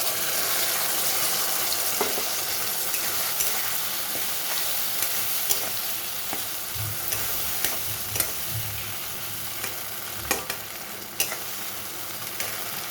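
A paste of poppy seed, mustard and sesame is stirred into bitter gourd frying in a pan for a spicy dish, giving a steady close sizzle broken by repeated scraping and clicking strokes of the spoon, with no talk.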